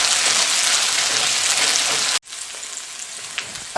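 Green beans frying in oil, a loud, dense sizzle for about two seconds that cuts off sharply, followed by a quieter crackle and a few stirring clatters.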